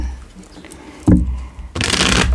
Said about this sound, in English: I need to shuffle them in 2 batches.